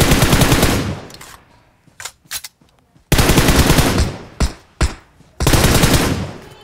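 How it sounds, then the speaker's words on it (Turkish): Video game machine gun fire in three loud rapid bursts with short sharp shots scattered between them. "Dur biri sıkıyor, dur."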